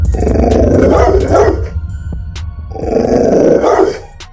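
A large Cane Corso dog growls and barks in two long, heavy bursts separated by a brief pause, loud and close, with no talking.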